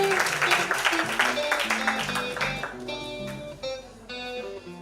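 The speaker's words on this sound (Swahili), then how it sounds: "Pigia makofi vizuri bana" Audience applause at a youth summit, a brief burst of clapping that fades under loud music with a prominent melodic line and beat.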